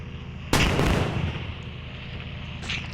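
Gunfire from a bike racing video game, used to shoot dinosaur eggs in a Jurassic Park area: one loud sharp blast followed by a decaying rumble, then a second fainter shot near the end.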